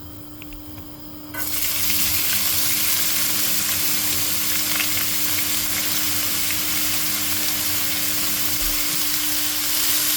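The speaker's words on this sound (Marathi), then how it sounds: "कांदो पयलो बरो भाजून घेवपाचो." Onions hit hot oil in a pan for Goan prawns balchao, starting with a quiet moment and then a sudden, steady close sizzle and crackle that continues to the end.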